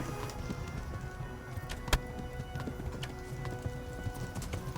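A horse gallops in the video game Kingdom Come: Deliverance, its hoofbeats a steady, rapid clip-clop over a dense game soundscape, with one sharper thud standing out briefly.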